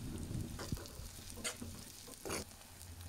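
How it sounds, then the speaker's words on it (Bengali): Ginger garlic paste frying in a pan for minced beef bhuna, a soft steady sizzle with occasional stirring scrapes, fairly quiet and close, no voices. "আদা রসুন একটু ভাজা হয়ে গিয়েছে"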